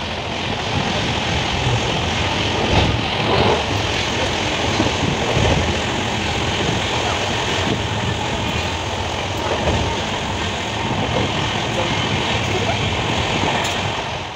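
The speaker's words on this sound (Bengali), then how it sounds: "নড়া নড়া ট্রেন জার্নি বলে কথা" A train rolls along during a rail journey to Puri, heard from inside the carriage as a loud, unbroken rumble and roar with faint knocks, continuous for the whole stretch; voices are faintly mixed in.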